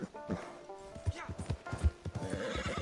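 Horse galloping in the Red Dead Redemption online beta, rhythmic clip-clop hoofbeats with a whinny, heard under someone talking over the game.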